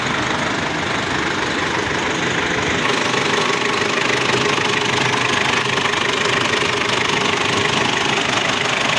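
Ford Everest 2.5 diesel engine idling with the hood open, a loud close steady knocking clatter and low drone that stays constant throughout, no talk.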